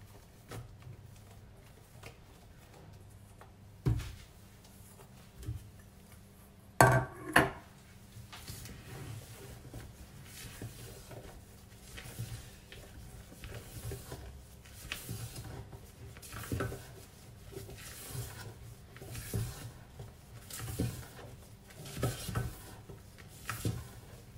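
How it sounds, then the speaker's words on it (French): Egg whites are gently folded into a batter in a bowl. A quiet, intermittent scraping and stirring runs throughout, broken by a couple of sharper clinks of utensil against the bowl. "Donc je mélange jusqu'à ce que mes blancs d'œufs soient intégralement incorporés"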